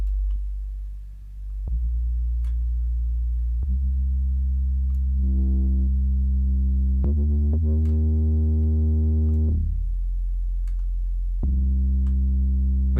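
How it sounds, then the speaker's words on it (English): Simple sine-wave bass notes pushed through overdrive in an Ableton production, sustained mid-bass tones with bright upper harmonics stacked above, changing pitch every second or two over about thirteen seconds, loud and alone. "just add some distortion, which you're going to hear is going to add some upper harmonics"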